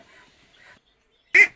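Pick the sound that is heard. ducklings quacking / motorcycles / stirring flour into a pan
ducklings quacking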